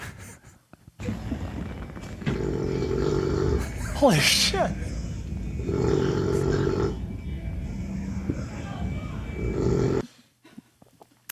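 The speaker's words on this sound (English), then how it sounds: "We have some audio of him snoring, perhaps." A man snoring loudly, played back as a recording on a talk show: deep, rasping, roaring breaths in three long repeated pulls, close and dominant, with a brief exclamation from a listener between them.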